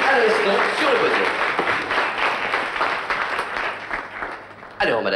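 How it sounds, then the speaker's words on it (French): A crowd applauds warmly at a prize podium ceremony, with dense sustained clapping that fades slowly over a few seconds before a voice comes in at the end. "Et on applaudit chaleureusement M. Alain Ferraro qui nous rejoint à l'instant sur le podium."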